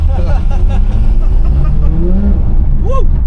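A car driven along the Champs-Élysées in Paris, its engine a loud, close drone with rising and falling pitch as it accelerates, amid surrounding traffic and street noise.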